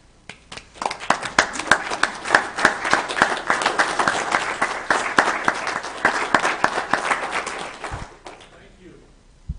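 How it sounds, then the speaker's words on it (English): Veterans get a standing round of applause at a Weber County commission meeting, with dense, lively clapping that swells, holds for several seconds, then dies away to near silence. "give these great warriors a final round of applause and appreciation"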